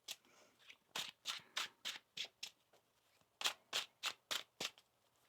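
Tarot cards are riffled in quick crisp bursts, about a dozen short snaps in two runs separated by a brief pause, close and clear with no talk.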